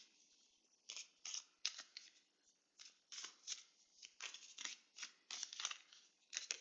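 A deck of spirit animal oracle cards is shuffled repeatedly in soft, quick riffling bursts, close and quiet, with short pauses between each pass.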